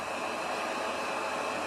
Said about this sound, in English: What we're doing here, we are using a hair dryer.